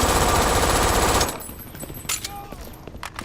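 Rapid automatic gunfire from the Brink video game, a dense loud burst of shots hammering for about a second before cutting off into quieter scattered game sounds and a few faint clicks.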